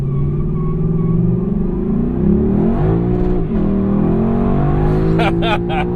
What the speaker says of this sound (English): Yes, it does a hell of a burnout.